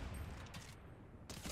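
Gunfire in the Fortnite doomsday event, a faint, muffled scatter of shots with two brief louder bursts over a steady noisy background.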